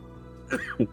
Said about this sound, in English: I'm coughing right now.